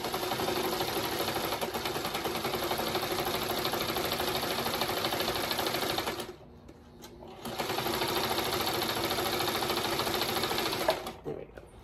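A sewing machine runs in a fast, steady mechanical clatter, pauses briefly for about a second, then starts stitching again at full speed.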